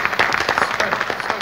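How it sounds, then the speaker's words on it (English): An audience at a press launch for the 2019 Illuminations applauds, a dense, steady wash of many hands clapping nearby, loud and continuous throughout. "Let's give you another round of applause."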